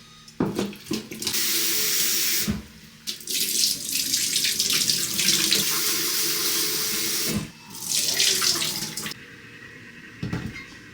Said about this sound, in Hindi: उसको विनेगर में अच्छे से मिला के उसको धो रहा है